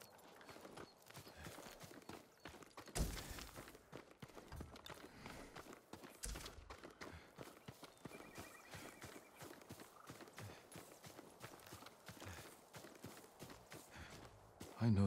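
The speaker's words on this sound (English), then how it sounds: "I want to look at his horse." Farm horse hooves clip-clop repeatedly along with an occasional whinny in the Ghost of Tsushima video game, faint and mixed with ambient game sounds across the whole stretch.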